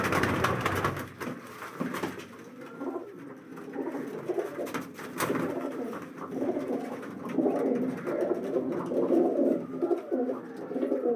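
Low flyer pigeons cooing in a breeding setup, several birds making soft rolling coos that overlap throughout, with occasional wing flutters and shuffling.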